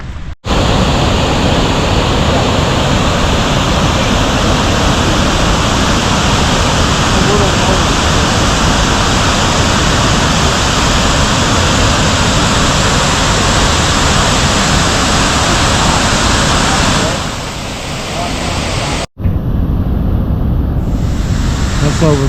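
Tahquamenon Falls pours over its drop with a loud, dense, continuous roar of rushing water close by, dipping briefly near the end with a short cut.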